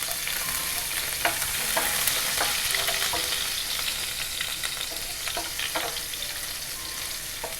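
Ginger, garlic and rosemary frying in oil in a pan, giving a steady bright sizzle with scattered crackles and pops, close and continuous with no voices.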